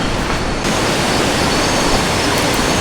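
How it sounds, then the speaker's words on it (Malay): Rushing river rapids roar steadily beside a riverside wild campsite near Tanjung Malim, a loud continuous broadband wash of water with no pause, close and dominant throughout. "Kita punya campsite memang betul-betul berdepan dengan jeram. So memang bunyi bising sikit lah bunyi air."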